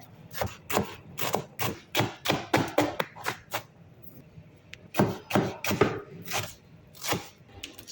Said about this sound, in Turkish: İlk olarak soğanımızı doğramaya başlıyoruz